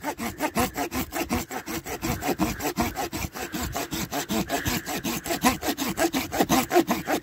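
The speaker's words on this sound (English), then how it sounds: "You can just hear by the cutting that this saw is dull, not sharp." A dull pruning saw cuts through a grafted crabapple tree branch with steady, rhythmic back-and-forth rasping strokes, close and fairly loud, about five strokes per second.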